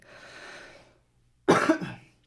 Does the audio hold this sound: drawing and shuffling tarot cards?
no